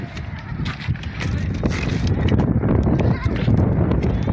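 A freshly kidded goat bleats at a crowded Karachi livestock market, its calls mixed with other animals, hooves and steady crowd chatter, with someone talking over the din.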